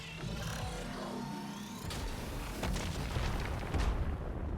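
Missile explosions in the video game Warframe, a dense run of rumbling booms and bursts that swell toward the end over a constant layer of game noise.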